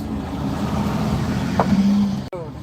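A car drives past at night on a quiet road, its steady engine and tire rumble building and then cutting off, with a brief tonal whine just before it passes.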